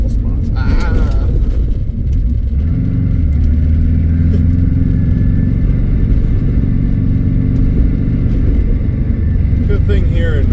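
Race car being prepared for Road America, driven over a bumpy northern Wisconsin road with gravel spots: a loud, constant engine drone and road rumble fill the cabin, with a person talking over it.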